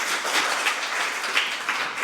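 An audience at a briefing seminar on parliamentary audit issues applauds a presenter, with loud, dense, continuous clapping from many hands close by.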